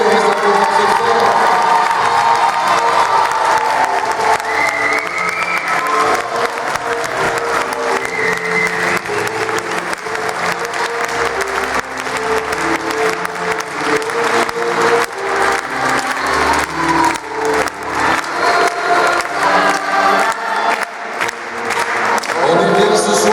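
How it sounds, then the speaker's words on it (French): Loud audience applause and cheering after a stage show, dense sustained clapping with shouts and whoops from the crowd throughout, close and full. "Chantal Diagracia, Stigoti, Agnès Escaché, les applaudissements très forts."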